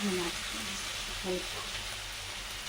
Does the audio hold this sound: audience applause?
no